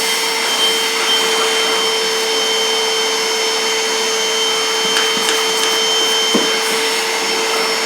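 A vacuum cleaner on wheels drones steadily at close range, a constant whining motor hum with a few faint clicks and knocks, no voices.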